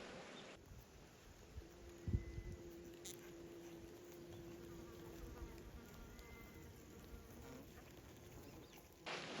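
Honeybees drone faintly and steadily in an open hive during a season's first inspection, with soft scattered patter and a low hum beneath.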